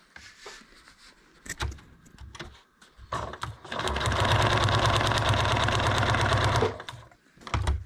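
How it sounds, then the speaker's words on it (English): A sewing machine stitches a paper-pieced quilt piece in one steady, loud run of about three seconds, preceded by scattered clicks and handling sounds. "So let me sew this one on."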